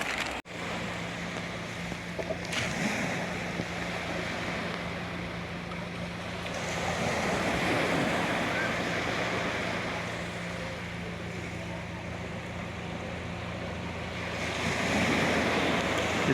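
Ocean surf at low tide washes steadily, a continuous broadband roar of breaking waves with wind noise buffeting the microphone and swelling louder around the middle and the end.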